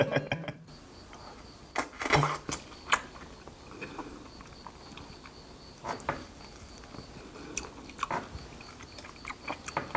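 Soy-sauce marinated mantis shrimp is eaten close up, with soft wet bites and chewing, occasional crunches and clicks, and scattered faint background noise.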